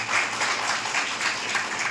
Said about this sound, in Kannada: ಅವ್ರಿಗೋಸ್ಕರ ಒಂದು ಜೋರಾದ ಚಪ್ಪಾಳೆ